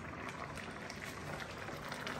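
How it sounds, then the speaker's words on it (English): Meat in a pot sizzles and bubbles with a steady, dense hiss that holds an even level throughout, with no talking. "Wow, because that's sizzling."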